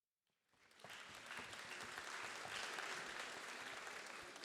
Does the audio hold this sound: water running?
no